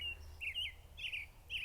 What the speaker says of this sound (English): We get to enjoy the tulips and the sound of the birds.